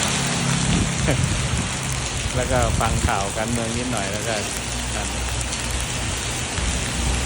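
Steady rain pours down during a storm in town in Roi Et, Thailand, a continuous broadband hiss throughout while someone talks over it.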